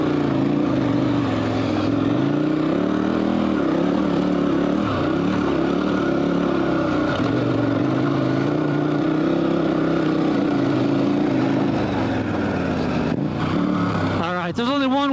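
A dual sport motorcycle engine chugs steadily through deep sand, a continuous loud, low engine drone with shifting pitch that stays close throughout.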